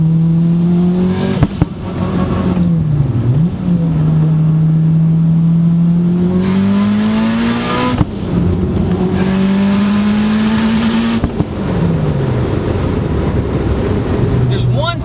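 A Mitsubishi Evo's engine hums steadily at moderate revs, its pitch dipping and rising as the car eases through a bend, with road rumble throughout.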